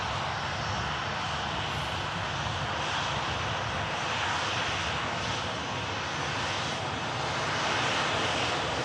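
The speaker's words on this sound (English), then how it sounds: "That Ryanair looking beautiful" A Ryanair jet at Manchester Airport gives off a faint, steady, distant engine rumble and broadband rush that holds evenly and swells slightly toward the end.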